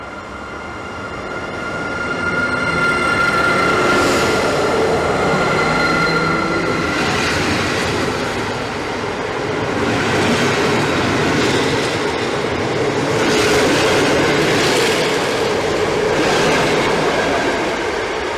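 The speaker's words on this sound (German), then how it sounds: "Ebenfalls mit 2 Minuten Verspätung fährt dann auch der polnische Intercity" Polish Intercity passenger train departing Mockava station on the Lithuanian–Polish border, a loud steady rumble of wagons rolling past with rhythmic wheel clatter and occasional squeal, sustained close by throughout.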